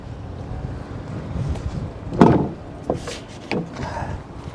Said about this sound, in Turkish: Felaket bir rüzgar var.